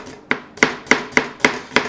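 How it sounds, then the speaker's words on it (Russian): Six crisp knife strikes hit a cutting board at a steady, quick rhythm while chopping onion, each a sharp tap up close with no talking. "начинаем нашу нарезку с лука"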